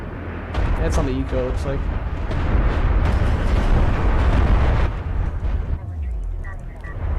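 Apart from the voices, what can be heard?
Kharak siege barrage artillery explosions, Homeworld Deserts of Kharak video game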